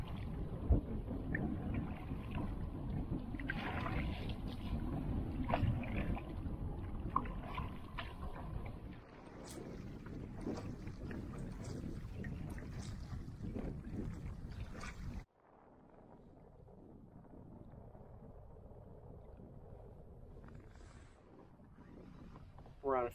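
Wind and waves on a lake during a snowy canoe trip: steady gusty wind buffeting the microphone with water sloshing against the canoe, loud at first, then quieter and more muffled. A voice speaks faintly.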